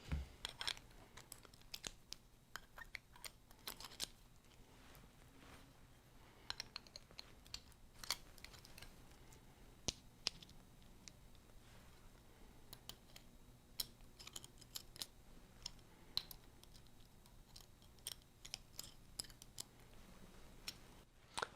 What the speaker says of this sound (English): Now I need to change the jaws on my honing guide to hold this type of mortise chisel